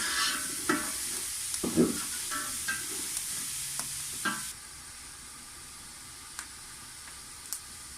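Spices, including black pepper, being roasted and stirred in a pan for a rice dish: soft sizzling with scraping stirs and light clinks in the first half, then a faint hiss that fades almost to quiet.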